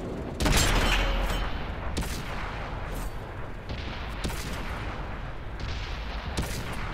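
A tank cannon fires in World of Tanks, one loud, close booming shot near the start that decays into a long rumbling tail, with further softer thuds and sustained engine-like roar beneath, no speech.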